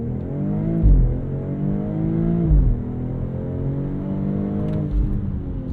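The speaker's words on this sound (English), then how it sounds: "All right, let's do one more launch control here." The turbocharged engine of a 2022 BMW X3 M40i roars hard through its gears on a launch-control start. Loud, rising revs climb and drop back at each quick upshift, heard from inside the cabin with no talk.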